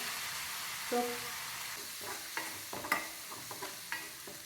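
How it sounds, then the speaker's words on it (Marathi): Green chillies sauté in hot oil in a pan, a light crackling sizzle broken by several sharp clicks and scrapes of a spoon stirring against the metal, with no voices. "मी त्याच्यामध्ये मिरची टाकून घेतलेली आहे तर छान परतून घ्यायची याला"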